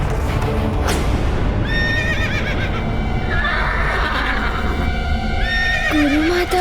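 Restless horses neigh and whinny in several high, wavering calls over a constant rumble, and faint hoof clip-clop can be heard under them.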